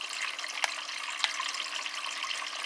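Water streams steadily into a Dyson Contrarotator CR01 washing machine during an 85-degree cottons test wash before the rinse, a continuous rushing hiss with two brief clicks along the way.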